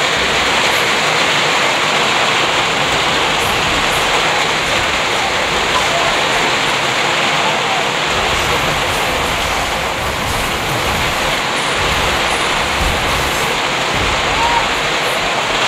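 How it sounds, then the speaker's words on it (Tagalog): Heavy rain pours down in a dense, loud, constant roar lasting the whole stretch, with faint background voices underneath. "Grabe ang lakas ng ulan guys ah."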